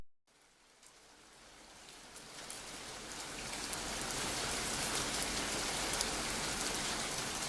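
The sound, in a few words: rain from video game Rainy Season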